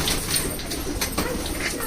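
Home-bred pigeons of a single breed in a loft give soft, low cooing close by, blended with rustling and faint bird chatter in a brief burst.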